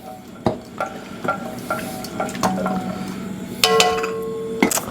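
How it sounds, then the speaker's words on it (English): A spoon stirs turkey ragu sauce in a pot, giving repeated soft wet scrapes and knocks, with a low simmering sizzle beneath and a louder clank near the end. "Give that a nice little mix."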